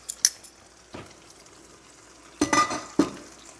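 Pork sizzling without oil in a Saladmaster pan, a few soft clinks and scrapes as the meat is flipped, with two louder utensil clatters near the end and quiet frying in between.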